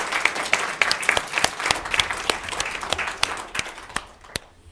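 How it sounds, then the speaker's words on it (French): An audience at a talk on the future of work applauds, a dense run of claps that thins out and fades toward the end. "on peut l'applaudir à nouveau"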